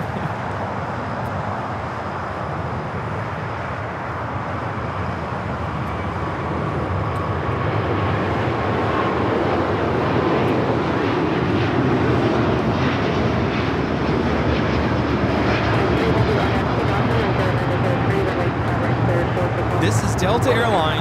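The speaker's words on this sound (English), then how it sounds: "Delta Airlines Flight 7 taking off to Tokyo, Haneda on the A350-900" A Delta Air Lines Airbus A350-900 heavy takes off at LAX, its broad engine roar building steadily and staying loud and sustained throughout, with people talking over it.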